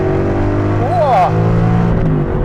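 Manual Aston Martin with a 510hp AMG engine accelerating, a strong close engine roar with a rising rev sweep, loud and continuous for a couple of seconds, a voice briefly heard over it.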